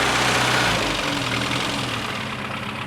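Engine of a 1965 Mini Cooper idling, a steady, close rumble with a throbbing low pulse and broad mechanical noise, holding fairly even throughout with no voices.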